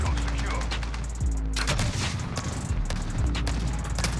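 Odin assault rifle firing in the Modern Warfare video game, loud repeated shots with a slow, steady cadence and booming low end, continuous through the whole stretch, with no talk over it.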